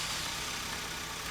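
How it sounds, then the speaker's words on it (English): A Volkswagen 2.0 16-valve engine idles at a high idle, giving a steady, continuous hum with even vibration and no other sounds. "start the engine and let it idle"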